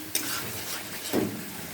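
Spice paste with green chillies stir-fried in oil, giving a steady soft sizzle with scraping stirs and a brief clink near the start, moderately close and without voices.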